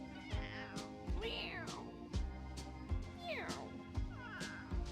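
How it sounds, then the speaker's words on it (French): An Okinawa cat meows repeatedly at a bus stop, four or five close, clear cries in a steady rhythm with falling pitch, over a faint background hum. "Oh, c'est quoi ces miaulements?"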